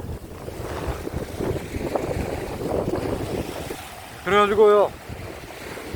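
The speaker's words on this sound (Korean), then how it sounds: "오늘 파도가 조금 요란하게 칩니다" Strong wind and rough waves roar steadily along a rocky fishing shore at Jumunjin, Gangneung, on an early morning, a dense broadband rush with a brief spoken phrase near the end.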